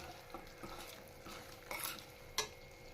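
Mint fried in a pan for vegetable pulao, heard as a soft sizzle under faint stirring and a few sharp utensil scrapes and clinks against the pot.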